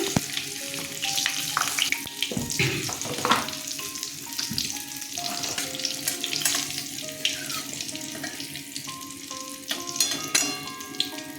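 Green chili and cumin seeds frying in hot mustard oil, a bright crackling sizzle with spitting pops and stirring clatter in a home kitchen, close and steady throughout.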